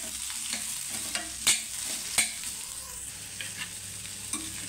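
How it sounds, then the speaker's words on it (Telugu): Radish pieces frying in hot oil in a pan for Andhra-style pickle, a steady bright sizzle with occasional scraping clicks and taps as a spoon stirs them, close and alone without talk. "చూడండి మధ్య మధ్యలో ఇట్లా కలుపుతా అయితే వేపుకోవాలండి."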